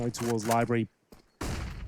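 Gunfire bursts during a competitive Counter-Strike esports match, with a few quick shots breaking in after a pause, heard right after a caster's voice calls out a position.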